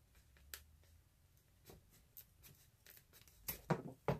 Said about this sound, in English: this little extra piece here, I've got to cut that off just for now